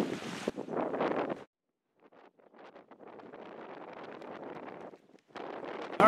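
Gusty wind blows over a lagoon, roaring against the microphone in loud bursts separated by brief lulls.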